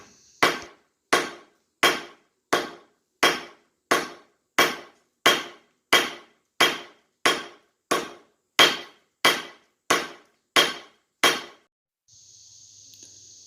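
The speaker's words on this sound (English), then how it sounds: "Now I'm starting to spread the bit with the cross peen." A blacksmith's forged cross peen hammer of about 3.5 pounds strikes the hot bit of a railroad clip tomahawk, spreading it: about sixteen loud, evenly spaced ringing blows, each decaying quickly, followed by a faint hum.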